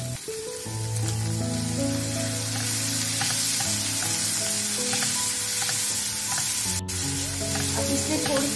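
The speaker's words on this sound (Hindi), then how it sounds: "थोड़ा सा भूनेंगे। हाफ टोमेटो देंगे।" Half a tomato sautéing in a hot pan for a pasta sandwich filling, with steady close sizzling and frying hiss throughout and occasional faint stirring scrapes.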